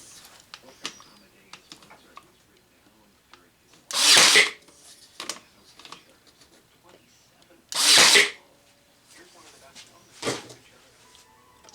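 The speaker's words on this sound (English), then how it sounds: "We're going to use the nail gun instead of screws." Nail gun tacking wooden planks on a display and storage railway wagon: two loud, sharp bursts several seconds apart, with quieter workshop knocks and faint voices between.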